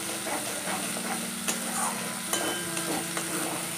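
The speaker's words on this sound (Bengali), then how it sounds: "খুব ভালো করে কষিয়ে নেব যতক্ষণ না মশলা থেকে তেল রিলিজ হচ্ছে। অনবরত নাড়তে হবে যাতে নিচে বসে না যায়।" Spice masala for a vegetarian mushroom and cashew curry frying in oil in a pan, a steady bright sizzle with soft scraping strokes of a spoon stirring at irregular intervals, close and without talk.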